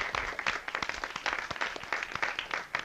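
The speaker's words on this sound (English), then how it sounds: "they deserve a big round of applause" Audience at a school committee meeting applauds volunteers, a moderately loud round of many hands clapping with distinct individual claps audible in the mix, continuous for about three seconds.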